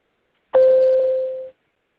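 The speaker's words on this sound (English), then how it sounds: "we will sound a tone that sounds like this" A single steady warning tone sounds on a court teleconference line, a clean electronic beep lasting about one second, heard alone against silence.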